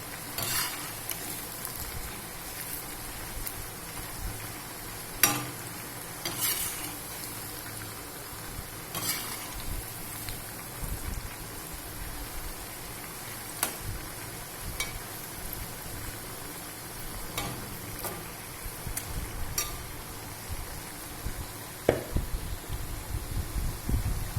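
Diced potatoes fry in a pan for sabudana khichadi, cooking to a light golden. A soft, steady sizzle runs throughout, with occasional scraping and stirring clicks close by.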